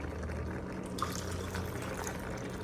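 Water poured from a cup onto soaked rice for Andhra-style gongura pulav in an Instant Pot, a steady close pour and trickle running the whole time with no talking.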